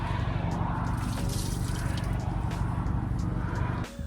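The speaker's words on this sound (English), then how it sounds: "You can just dump this out." Water being dumped out of a TPE all-weather floor mat from an 11th-generation Honda Civic, a steady splashing pour and trickle over outdoor background noise, ending abruptly near the close.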